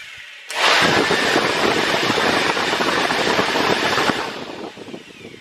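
A miniature leaf-blower motor runs without its case, drawing about 500 watts. It starts abruptly with a loud, steady whirring roar that holds for about three and a half seconds, then cuts off and winds down.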